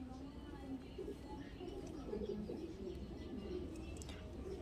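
Giribaj pigeons coo softly in low, rounded repeated calls, fairly close but quiet, mixed with faint chirps and background rustle.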